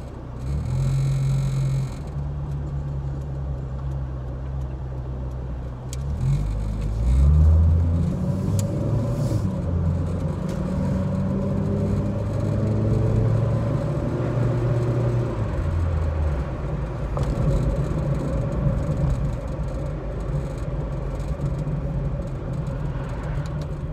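A car cruising on open road at a higher speed limit, its engine and tyre rumble steady and close from inside the cabin, with a brief rise in revs partway through and no talking.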